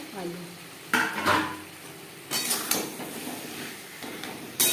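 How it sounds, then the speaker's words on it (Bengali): Potatoes stirred into a tangra fish curry in a pan, the spoon scraping in uneven bursts of strokes against the metal, with a soft sizzle underneath. "আলু বেশ ভালো করে মিক্সড করে দেবো"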